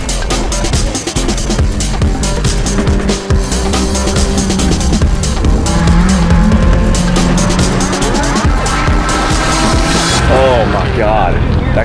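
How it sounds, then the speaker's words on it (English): APR-tuned Audi S4 on a track day, accelerating hard on a racing circuit, engine roaring loudly and continuously with tire noise and a brief squeal near the end, heard from inside the cabin. "that car accelerates brutally"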